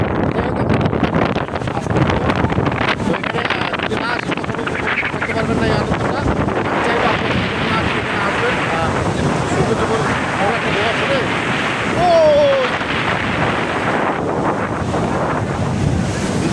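Surf rolls and crashes at Cox's Bazar beach under loud, buffeting wind against the microphone, with a strong current churning close by and voices talking over it.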